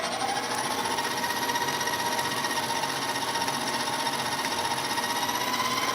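Loud, continuous whir of an electric mixer beating buttery almond cookie dough in a kitchen, a steady motor drone that holds unchanged throughout.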